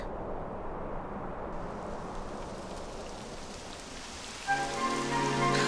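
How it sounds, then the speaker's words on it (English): Steady video game rain pours down in Dragon Quest XI S, a dense hiss of drops hitting surfaces; partway through, a sustained tonal hum joins the downpour. "It would have to go and start raining, wouldn't it?"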